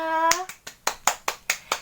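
Children and their Sunday school teacher clap hands together in a steady rhythm of about seven sharp claps, starting just after a brief spoken voice and continuing alone.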